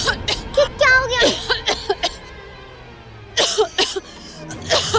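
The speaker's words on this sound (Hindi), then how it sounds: "अरे ये खांसी कैसे चलने लग गई?" Several short, harsh coughs burst out in quick clusters, close and loud, with a brief pause before another round of coughing.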